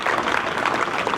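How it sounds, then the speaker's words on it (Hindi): A brief burst of dense audience clapping at a school cluster sports competition event, loud and continuous across the short moment. "तो ऐसी महान विभूतियों के लिए जोरदार ताली बजाइए।"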